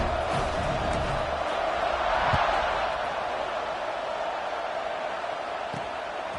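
A steady, dense roar rises from a football stadium crowd before a kickoff, holding broad and constant throughout, with a slight swell near the middle.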